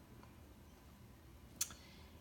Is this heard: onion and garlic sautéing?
no